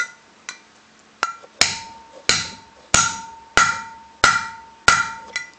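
Inner bearing race hammered into a 1997 Volkswagen Cabrio hub: eight sharp metallic strikes close up, the later blows coming at a steady rhythm with a ringing tone that grows more solid, and no one talking.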